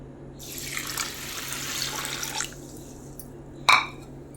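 A glass of rice grains is rinsed in water for rice gruel, with running water splashing steadily for about two seconds, then a quiet pause and a single sharp clink of a vessel near the end.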